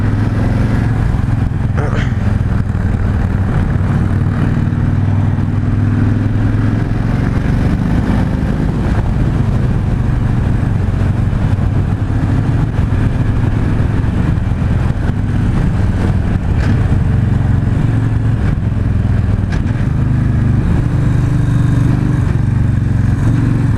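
A 2016 Victory High-Ball cruiser motorcycle rumbles steadily at riding speed, its low engine drone mixed with heavy wind buffeting throughout, loud and close with no clear revving peaks.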